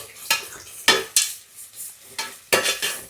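Onions sizzle in a pan with a pinch of rock salt for prawn biryani, while a utensil scrapes and stirs in several distinct, loud strokes over a softer frying hiss.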